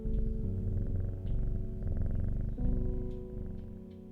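A cat purrs steadily and continuously in the video game Strange Horticulture, a close, low rumbling drone with rhythmic breathing pulses, heard alone over quiet background music.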